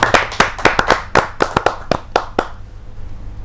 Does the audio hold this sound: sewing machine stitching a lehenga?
no